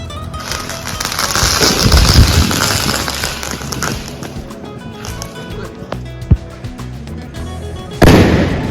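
A large sutli firecracker bomb set off during a family Diwali celebration at night, heard as loud sharp bursts and crackling amid outdoor noise, with a strong blast near the end.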